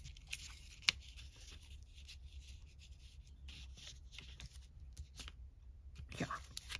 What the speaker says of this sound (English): I'm gonna rip this.